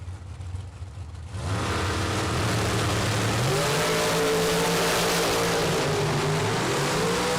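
Shorty dragster launching down an eighth-mile drag strip at a Super Pro bracket race: quiet idle, then a sudden loud engine roar that climbs in pitch through the gears and holds at full power.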